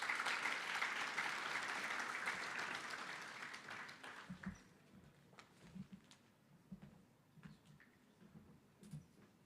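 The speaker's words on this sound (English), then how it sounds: "Can you give him a round of applause?" Conference audience claps in a fairly faint round of applause that fades out after a few seconds, followed by quiet room noise with scattered small bumps and shuffling.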